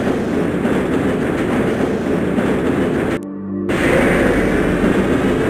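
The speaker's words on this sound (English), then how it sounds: "This train is inbound from Level 3 dormitories to Sector C test labs and control facilities" Commuter tram ride through the Black Mesa facility in Half-Life, with a continuous loud rolling rumble and rail clatter, cut by a brief drop to near silence before the rumble returns.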